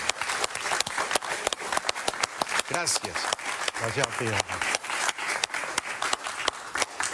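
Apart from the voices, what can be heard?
audience applause for a guest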